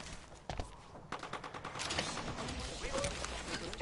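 Rapid bursts of gunfire in a shooter video game, with the Bangalore character in play, loud and close, starting in sharp shots and building into sustained overlapping fire with mechanical clatter.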